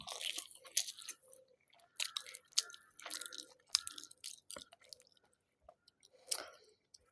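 Someone eats rice with fried banana flower, and close, moist chewing and crunching come in irregular bursts separated by short quiet gaps.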